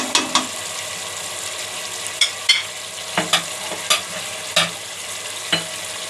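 Spaced, sharp scrapes and knocks of a spoon against a frying pan as masala with tomato puree is stirred, each stroke standing out over a steady sizzling fry; the sound is close, with about ten strokes and no talking.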